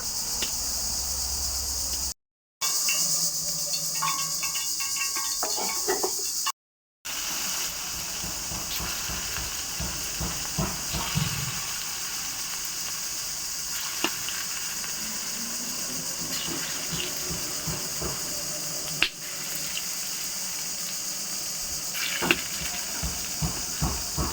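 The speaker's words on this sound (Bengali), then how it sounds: "চুলার মধ্যে এখন হইতাছে ডালের বড়া" Lentil fritters (dal bora) frying in oil on a village clay stove give a steady, close sizzling hiss that runs the whole time, broken by two short dropouts.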